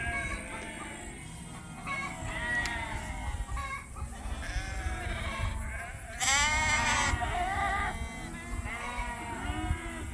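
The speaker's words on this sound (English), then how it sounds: "there's some goats in there that'll have to come out of there" Goats bleat repeatedly in a farm pen, several overlapping wavering calls close by, with one louder burst partway through and a steady background of animal noise.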